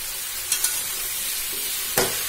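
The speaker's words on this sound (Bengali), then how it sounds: "এরপর সবজিগুলো দিয়ে দেওয়া হচ্ছে। ভালো করে মিশিয়ে নেওয়া হচ্ছে।" Mixed vegetables with drumstick stalks sizzle in a pan, broken by a few brief spatula scrapes as they are stirred.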